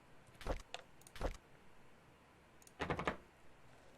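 Keys jangle in The Painscreek Killings, in three short metallic bursts separated by pauses, moderately close with a faint quiet background and no talking.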